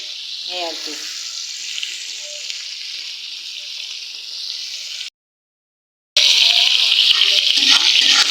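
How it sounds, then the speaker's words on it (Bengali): Fish frying in a pan during home cooking of winter vegetables, a steady close bright sizzle with faint stirring, cutting out briefly before resuming louder and harsher. "এই আর কি মাছটা ভেজে নিলাম"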